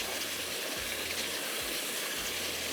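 Steady broadband sizzling hiss of sweet pumpkin halwa roasting in ghee in a pan, continuous and close, with a few soft low thumps.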